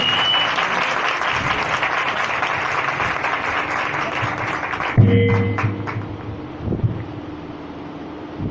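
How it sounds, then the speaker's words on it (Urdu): A church congregation at a sermon service claps loudly in a dense, sustained wash of applause that cuts off abruptly midway, leaving a quieter room tone with a few faint thumps and a low murmur. "زوردار تالیاں بجائیں۔"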